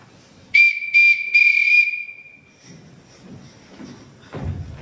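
A signal whistle blown in a household to summon children gives several loud, sharp shrill blasts, two short then one long, followed by fainter rustling and shuffling movement.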